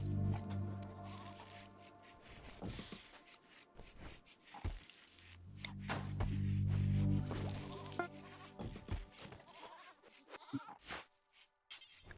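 Goats bleat in the colony-building game RimWorld, with several drawn-out, wavering cries spread across the stretch, broken by short knocks and drips and quiet gaps.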